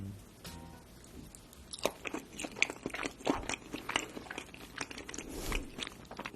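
Close-up biting and chewing of a soft birthday cake decorated with gold flakes, a run of small crunchy and wet mouth sounds at an uneven pace with no talking.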